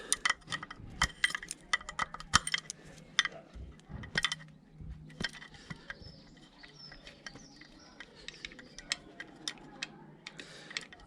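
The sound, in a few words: removing Suzuki GS850 carburetor floats, metal parts clinking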